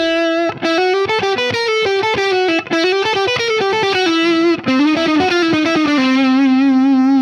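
Distorted electric guitar plays a chromatic exercise, a steady run of single notes stepping up and back down along the neck, loud and continuous with effects coloring the tone.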